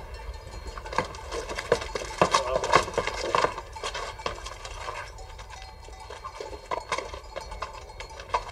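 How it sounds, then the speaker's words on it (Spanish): Horse hooves clip-clopping on hard ground as the animal is led to the stable, an uneven walking rhythm of sharp knocks, fairly close, with no talk over them. "Me voy a llevar el caballo a la cuadra."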